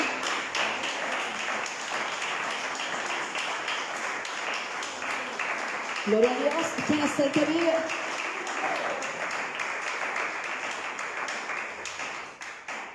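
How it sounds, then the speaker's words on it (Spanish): Applause from a church congregation runs steadily underneath, while a preacher's voice rises over the clapping partway through. "dele un aplauso al Señor"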